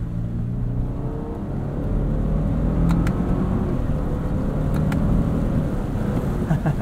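A 2022 Lexus LX 600 Ultra Luxury accelerates in Sport Plus mode, heard from inside the cabin as a steady low engine drone and road rumble that swells slightly as the SUV picks up speed.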